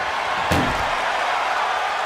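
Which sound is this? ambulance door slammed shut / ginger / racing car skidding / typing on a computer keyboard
ambulance door slammed shut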